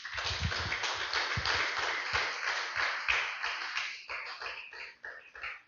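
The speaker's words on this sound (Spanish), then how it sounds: "Denle un fuerte aplauso al Señor, aleluya." A church congregation applauding together during a sermon, a dense, steady patter of many hands clapping at close range, with crowd noise under it and sharper accents at irregular moments, easing off near the end.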